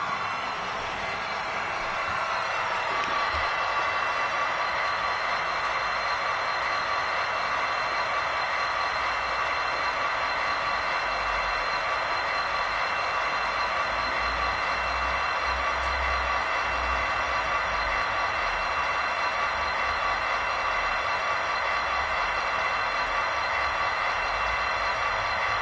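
Model railroad local train of empty cars rolling steadily along the layout, a continuous even hum and rail rumble throughout with a slight low swell midway, no talking.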